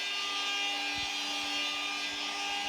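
An electric planer shapes the rails of a surfboard in a shaping bay, giving a steady, loud whining hum with a faint shaving rasp beneath, continuous and close.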